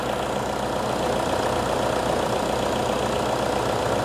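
A freshly rebuilt Toyota Innova 2KD diesel engine idles steadily nearby, with a dense, even clatter and rumble that stays constant throughout.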